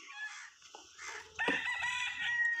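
Chickens at a farm shed making clucking and crowing calls, a few close, moderately loud squawks and a longer drawn-out crow, with quiet background and no talk.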